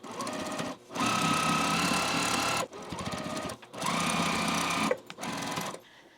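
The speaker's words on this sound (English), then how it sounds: "we're going to take this to our machine and sew right along these 2 edges." A sewing machine stitches along the edges of a fabric bowl cozy panel, running in two long, steady, rapid bursts with short pauses between them and a shorter run at the end, close and clear.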